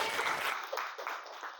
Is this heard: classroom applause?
yes